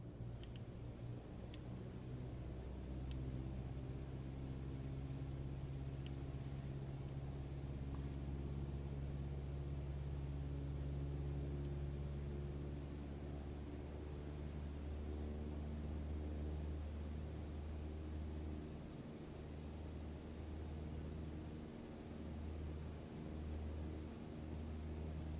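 Steady propeller aircraft engine drone in Microsoft Flight Simulator 2020 as the throttle is brought back up to 2400 RPM, a constant low hum with faint clicks and a slight rise in pitch over time.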